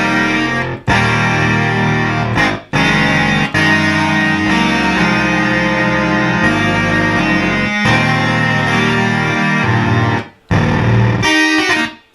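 Buzzy, distorted Memorymoog Plus synthesizer tones jump between octaves, the sustained pitch shifting abruptly several times with brief cutoffs in between.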